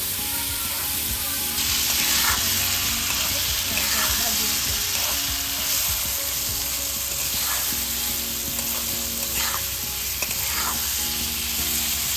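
Squash chutney with chopped onion fries loudly in a pan on a gas flame, a dense continuous sizzle with occasional stirring scrapes and faint talk underneath.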